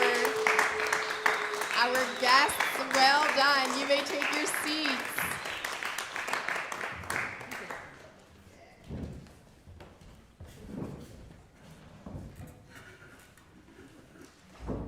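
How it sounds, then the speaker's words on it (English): An audience at an academic event on musical communities gives a sustained round of applause with voices over it for several seconds, then the clapping dies away and a speaker talks. "A big round of applause for our"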